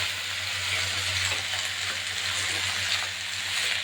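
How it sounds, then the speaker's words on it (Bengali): Eggplant and fenugreek greens frying in a pan while being stirred with a spatula, giving a steady soft sizzle with faint scraping under it and a low hum behind. "একটু খুন্তিতে নেড়ে চেড়ে নেব।"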